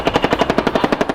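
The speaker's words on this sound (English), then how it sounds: "Cobra attack helicopters engage the targets with a high degree of accuracy, employing cannon, rockets," Cobra attack helicopters firing cannon at targets: a rapid, loud, evenly spaced burst of about a dozen heavy shots in quick succession, close and continuous.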